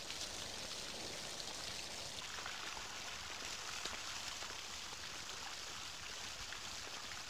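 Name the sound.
rain falling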